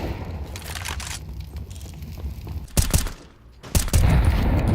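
Gunshots in a Counter-Strike buy round during a pro esports match at IEM Katowice 2025: a few sharp, loud shot bursts cut through steady in-game background noise.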